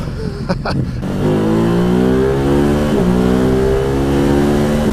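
A Ducati Hypermotard 950 SP motorcycle engine revs loudly and steadily, its pitch climbing and holding high as the motard accelerates hard on the road.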